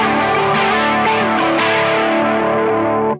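A single thick, distorted electric guitar chord in drop D tuning, played across the low strings, rings out loud and sustained for a few seconds before cutting off.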